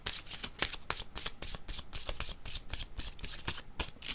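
Tarot cards being shuffled by hand, a steady run of crisp riffling flicks and soft card slaps close up, continuous and moderately loud with no voices.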